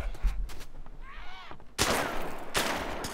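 Two loud, sharp gunshots ring out in the multiplayer survival game DayZ during a player-versus-player fight in the city of Chernogorsk. A short spoken voice comes first, then the shots crack close together near the end.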